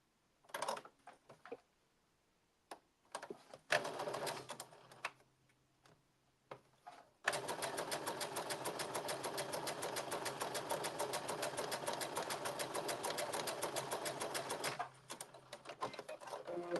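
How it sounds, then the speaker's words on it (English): A sewing machine runs ease stitching across the top of a blazer sleeve, starting with a few short bursts and brief pauses, then settling into one long, steady, close run of rapid stitching before stopping. "So I'm going to put some ease stitching around the top of the sleeve"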